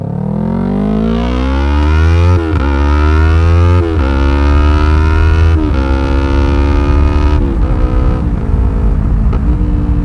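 A highly modified Yamaha R3 motorcycle engine roars loudly and close during a test ride, rising steadily in pitch through several gear changes with brief dips between them.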